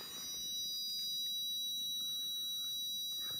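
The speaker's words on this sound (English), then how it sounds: "you can already hear the carbon monoxide sensor going off" A carbon monoxide sensor alarm sounds steadily as a faint, continuous electronic tone held throughout, with a few brief higher beeps over a quiet room hiss.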